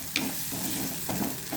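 A bubbling tomato dish cooks down in a pot while it is stirred. A low continuous sizzle runs under a couple of brief scraping strokes, close and fairly quiet.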